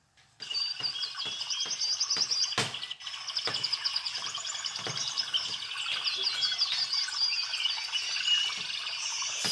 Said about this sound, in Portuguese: Som de passarinhos.